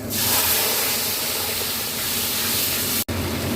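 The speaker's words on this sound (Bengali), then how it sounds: "এবার দিলাম টমেটো, আদা আর কাঁচা লঙ্কা বাটাটা দিলাম।" Tomato, ginger and green chili paste dropped into hot oil with bay leaf and cumin seeds, giving a loud, close, continuous sizzling hiss that bursts in at once and holds steady, broken only by a split-second dropout near the end.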